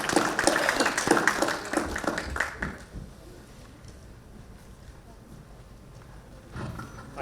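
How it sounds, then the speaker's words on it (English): An audience at an ESG summit award ceremony gives a burst of loud applause for an award recipient that lasts almost three seconds, then trails off into quiet room ambience. "Big round of applause for Praveen Kern, please."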